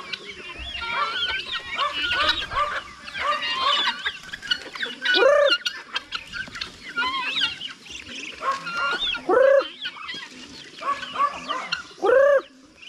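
Poultry on a Filipino farm calls repeatedly, several loud crowing and honking cries rising above a cluster of softer clucks and chatter, spaced a few seconds apart.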